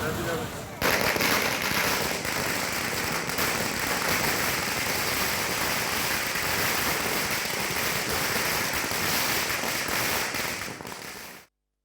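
Firecrackers burst nonstop in a street celebration, a thick, loud, continuous crackling roar lasting about ten seconds before cutting off abruptly.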